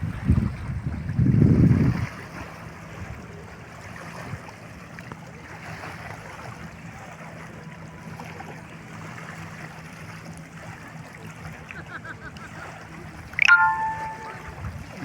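Water churns in waves at Umrangso in Assam, heard as a steady distant rushing wash throughout, with a louder surge near the start and another brief swell near the end.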